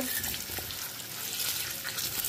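Pieces of arbi (taro) fry in a hot pan on full flame for a Bengali-style masala dish, giving a steady, fairly loud sizzling hiss with light stirring clinks and no clear talk.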